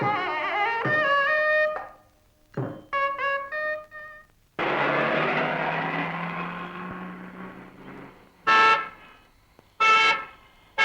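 A car horn honks repeatedly, long sustained blasts and short toots, loud and close, with a rumble of traffic between them.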